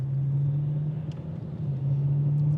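A BMW M8 F92 with an eight-cylinder engine accelerates during a speed test, heard from inside as a steady low engine drone and rumble with a sustained tone and no voices.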